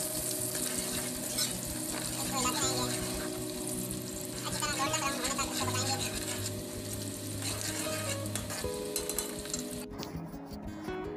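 Two large chopped onions with cinnamon pieces frying in a pan until dark brown for beef yakhni pulao, a continuous close sizzle with occasional stirring, under steady tonal background music.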